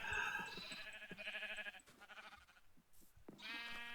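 Sheep bleat repeatedly in a farming video game, several wavering calls close together with short gaps, some animals louder and nearer than others.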